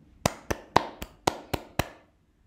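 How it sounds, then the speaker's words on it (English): Seven crisp hand claps at a steady, moderate pace, close and distinct with short decays, then silence. "And clapping."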